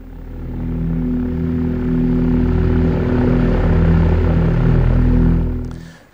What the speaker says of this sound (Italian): Si sentiva solo il rumore dei motori dell'aereo.